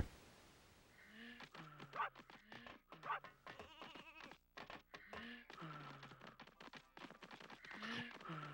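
Sheep bleats from the N64 game Space Station Silicon Valley, several short bleating calls spread across the clip amid other game sounds, with a person talking over parts of it.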